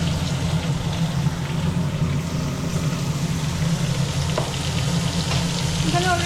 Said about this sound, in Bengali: বিরিয়ানির জন্য অলরেডি ও চিংড়ি মাছগুলো ভাজছে